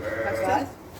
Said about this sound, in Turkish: Koyunlarımız burada.